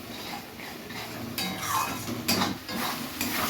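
Spices sautéed in oil in a pan for a Bengali chicken kosha curry, a spatula scraping and clinking against the metal pan over a soft sizzle, with louder stirring strokes in bursts.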